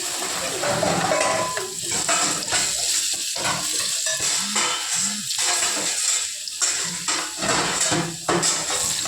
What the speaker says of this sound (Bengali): মোটামুটি উল্টে পাল্টে আলুগুলোকে ভেজে নিয়েছি।